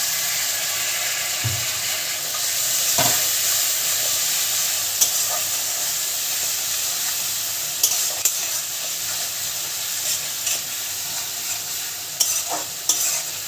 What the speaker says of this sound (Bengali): মশলাটা খুব ভালোভাবে কষিয়ে নিতে হবে